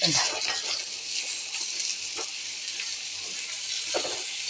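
Onions sautéing in a pan for a mushroom curry, a steady hiss of sizzling oil with occasional soft scrapes and stirring clinks, close and continuous with no talk.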